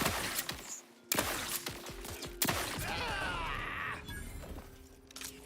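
Loud bursts of gunfire crack through combat in The Outer Worlds 2, with sharp repeated shots, shattering impacts and mechanical clatter over continuous game noise.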